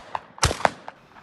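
Sharp shotgun reports at a target shooting competition: a loud crack followed by several fainter distant shots spaced irregularly over a quiet background.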